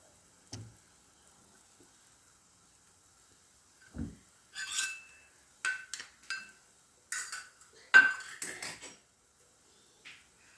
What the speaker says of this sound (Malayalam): അതിങ്ങനെ നല്ലപോലെ ഫോർക്ക് വെച്ച് അടിച്ച് നൂല് പോലെ ഇതിലായിട്ട് ഒഴിച്ചു കൊടുക്കുക